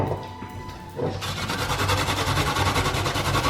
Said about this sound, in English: As we did with the potato, we're going to grate the onion down.